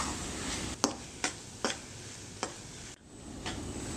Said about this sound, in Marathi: आणखीन एक चार ते पाच मिनटं ह्याच्या कडा सुखेपर्यंत आपल्याला ह्याला छान परतून घ्यायचं आहे